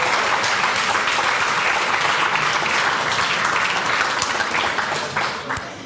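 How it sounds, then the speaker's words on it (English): A crowd claps in a steady roar of applause for several seconds at an awards ceremony, then it starts to thin out toward the end. "A round of applause for them"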